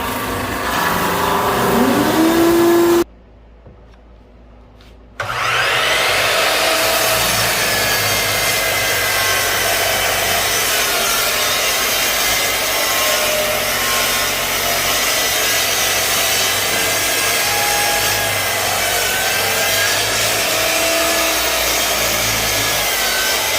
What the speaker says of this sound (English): the benefit of having a thickness sander or a drum sander for an end grain